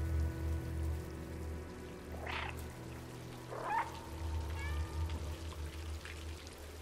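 Cats in Stray let out a few short, thin meows spaced apart, heard against a low steady hum and soft watery background, moderately near.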